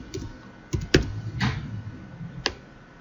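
Computer keyboard typing in a short burst of a few separate keystrokes, close and fairly quiet, with no talk over it.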